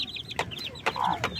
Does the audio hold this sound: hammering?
no